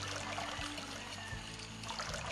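Milk poured in a steady trickling stream into puto batter in a blender jar, a continuous liquid dribble heard close with faint low kitchen rumble.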